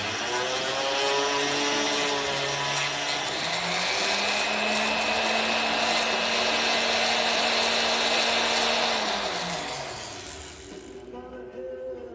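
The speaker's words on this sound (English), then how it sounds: "I got to clean those up real quick with the ball burr" A ball burr on a rotary tool whines continuously at steady high speed while grinding drill shards off a silver pendant, loud and close, with the motor pitch shifting slightly before it spins down near the end.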